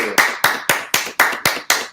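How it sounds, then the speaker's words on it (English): Seven sharp, evenly spaced hand claps in a steady rhythm, loud and close, with no talking. "That's why we clapping for Dapper Dave and Mill."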